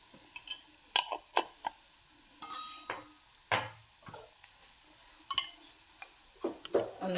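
Spices frying in oil in a home kitchen pan, with sharp clinks and scrapes of a metal spoon stirring against the pot over a quiet background.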